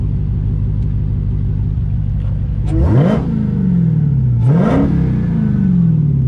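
A car engine in Sport Plus mode with a Pedal Commander throttle controller revs loudly twice, each rising to a strong peak and falling back, over a steady near idle rumble with no talking.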